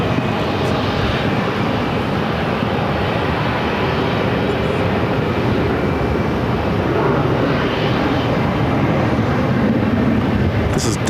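A 32-year-old Delta Airbus A320, formerly a Northwest jet, arriving at Phoenix Sky Harbor from Salt Lake City, its engines roaring loud and steady throughout as a broad, continuous rumble with no break.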